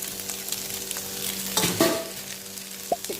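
Chicken pieces dropped into frying onion pieces in a pan, a steady sizzle with a sudden louder crackle as the meat goes in, followed by a few scraping stirs, no talk.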